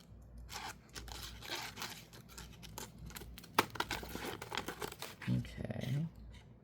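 Scissors snip and trim decoupaged napkin paper for a junk journal, with steady crinkling and rustling of the thin sheet up close and brief scratchy cuts throughout, while someone speaks softly over the paper handling.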